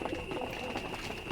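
Domestic pigeons coo softly in a keeper's loft, a brief, faint, low murmur against steady background noise.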